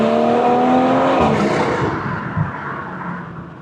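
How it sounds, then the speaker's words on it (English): A BMW B58 engine with modified exhaust in an M340i revs hard and rises in pitch, then cuts off sharply, leaving a fading rumble and a short pop from the exhaust. "The way this B58 sounds with these exhaust mods is just beautiful."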